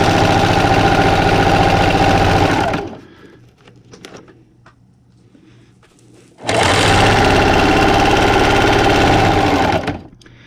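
A sewing machine runs stitches along the fabric edge of a thick, bulky jumbo hot pad. It comes in two loud, steady bursts of about three seconds each, with a quieter pause between them.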